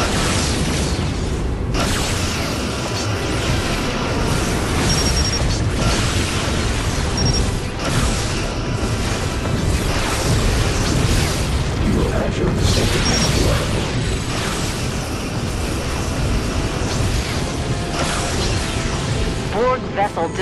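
A Borg vessel is destroyed in Star Trek Legacy amid a constant roar of space battle, with repeated booms, crashes and bursts layered under a game voice announcing events.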